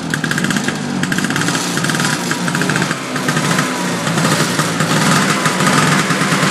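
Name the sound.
old Vespa scooter engine starting after long disuse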